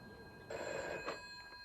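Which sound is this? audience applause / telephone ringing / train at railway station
telephone ringing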